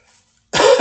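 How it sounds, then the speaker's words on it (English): A single harsh cough bursts out close and loud after a near-silent pause, with a brief rough throat-clearing quality. "Apologize, I am coughing here."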